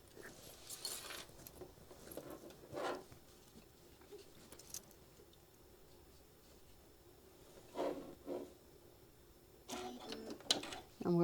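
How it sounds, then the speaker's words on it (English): A sewing machine top stitches fabric in short whirring bursts separated by pauses, with a person talking quietly between runs. "Now we're just going to top stitch 1/8 of an inch all the way down on this piece right here."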